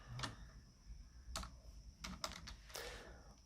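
Keys tapped on a computer keyboard while typing a short entry into an Excel attendance sheet, a few quick separate clicks scattered over a quiet background with no talk.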